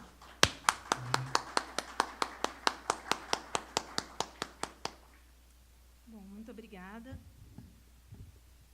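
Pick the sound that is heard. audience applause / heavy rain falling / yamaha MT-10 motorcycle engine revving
audience applause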